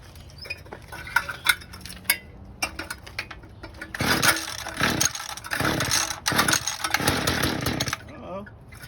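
A Mantis tiller's small engine on its first start of the season after a carburetor clean, with choke pulled: scattered pull-start clatter in the first seconds, then a rough, loud sputtering run that surges and falters before cutting out near the end.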